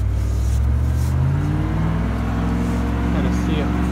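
Car revving hard with wheels spinning as it tries to turn around in thick sand, a loud close engine drone with rising and falling pitch throughout.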